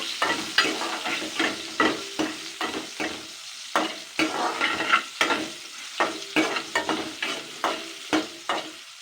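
Sliced mango and salt being stirred in a pan, a steady run of close scraping strokes about once a second over a soft sizzle, with no voices.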